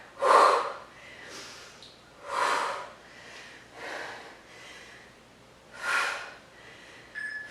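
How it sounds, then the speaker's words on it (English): Heavy, forceful exhales during a Pilates workout come in spaced bursts, about six in all, close and breathy, with no talking. "And are we breathing? Big exhales when it's hard."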